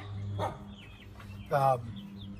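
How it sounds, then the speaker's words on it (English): A dog barks a couple of times in the background, distant and moderately loud, under room noise in a casual indoor setting where people are chatting over beers. "You can hear Apollo in the background, which is the dog that doesn't like a bandit in here"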